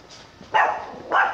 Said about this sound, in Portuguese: Um cachorro latindo.